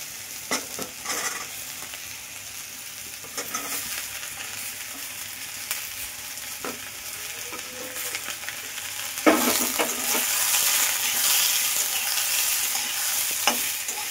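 Apple chutney ingredients fry in a pan with a steady low sizzle, while a spoon scrapes and stirs in intermittent clatters, close and alone without voices.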